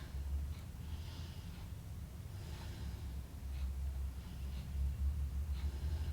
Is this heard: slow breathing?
yes